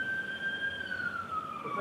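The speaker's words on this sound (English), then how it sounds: "Hold on, wait for the ambulance, and then speak up." Ambulance siren wailing outside a courtroom, a steady tone sliding slowly downward, moderately loud and unaccompanied by talk.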